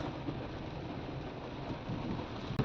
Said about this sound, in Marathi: पाऊस भरपूर चालू आहे, बघा तुम्ही पाऊस.